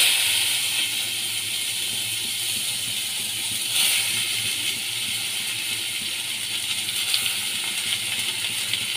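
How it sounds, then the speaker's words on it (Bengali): Cut ash gourd pieces sizzling in hot oil with dried chilli in a home kitchen, a steady bright hiss with faint crackles and spatters that runs evenly throughout, close and fairly quiet. "এবার চাল কুমড়োগুলো আমি তেলের মধ্যে দিয়ে দেব"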